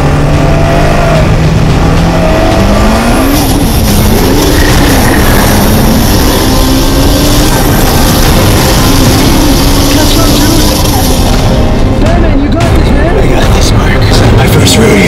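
A car called the Batmobile, a movie-character vehicle, pulls away with a loud, rising engine roar that sweeps through several pitch climbs and holds a heavy rumble, with people shouting excitedly over it.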